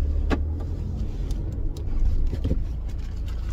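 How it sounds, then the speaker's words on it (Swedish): Steady low engine and road rumble of a car heard from inside the cabin while driving, with a few faint clicks and knocks over the continuous drone. "jag sitter och kör bil"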